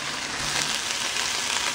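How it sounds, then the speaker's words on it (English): Steady, crackling sizzle of turkey bacon frying in a hot skillet, close and continuous with no voices. "Look at that sizzle. You hear it?"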